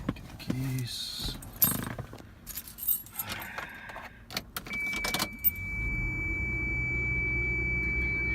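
Car keys jangle and clink in a few quick bursts up close, followed by a door chime tone and a low steady car hum, with someone talking briefly.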